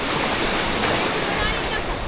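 Sea waves at a beach in Lingayen, Pangasinan make a steady, close wash of surf across the whole stretch, with a voice faintly present alongside.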